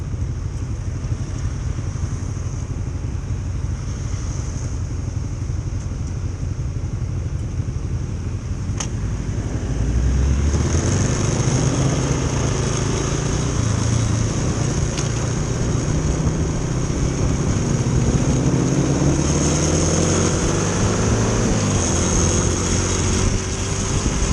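A Ford Mustang GT with a five-litre V8 idles with a low rumble, then its deep engine roar swells and climbs in pitch as it revs up partway through, loud and close, with no speech.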